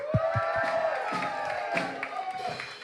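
A studio audience claps and cheers for a guest act on a Manchester music show, with a few loud claps at the start and then sustained applause under an announcer's voice.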